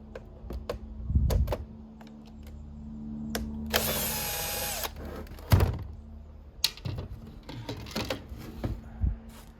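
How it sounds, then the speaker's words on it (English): A power driver takes the screws out of the back of a Dell P2018H monitor, with one sustained whirring burst among scattered clicks, thunks and plastic handling noises, close and moderately loud. "First, start with removing all the screws in the back."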